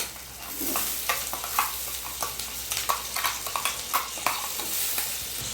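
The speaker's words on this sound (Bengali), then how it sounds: "মশলাটা কষিয়ে নেব। এখানে দিয়ে দেবো টমেটো পেঁয়াজ পেস্টটা" Spice masala being fried with tomato-onion paste for a Bengali chicken curry, a soft continuous sizzle with repeated spatula stirring scrapes against the pan, close and fairly quiet.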